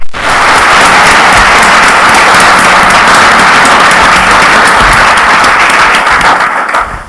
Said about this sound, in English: Please give a round of applause to welcome him.